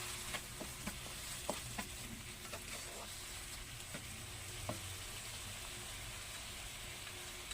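Chicken filling stir-fried with dark soy sauce and coriander hisses in a steady close sizzle, with light scraping and tapping from the spatula scattered through it.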